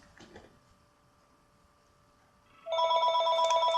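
A telephone starts ringing with a loud, rapid electronic warble after a quiet stretch with a faint tone and a brief knock.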